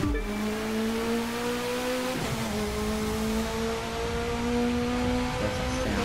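A race car engine in the video game The Crew 2 holds a steady high whine, shifting pitch once or twice as it revs, loud and continuous with no talking.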